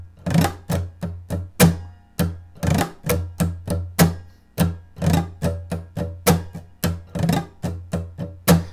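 Rhythm guitar strumming pattern for a song, with crisp percussive strokes in a steady, syncopated groove and brief pauses between phrases, played close and solo without speech.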